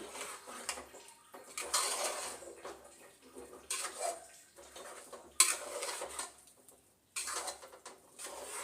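Salt gets mixed into a ground spice paste in a bowl, with soft, quiet scraping and stirring strokes that come in short bursts between pauses, with no voices.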